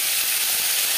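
Ginger paste hits hot oil already frying whole spices and gives a loud, steady, bright hiss and sizzle that fills the short moment close up.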